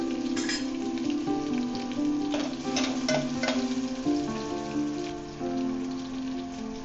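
Garlic frying in hot tempering oil in a Konkan-style horsegram recipe, a steady close crackling sizzle with occasional sharper pops throughout.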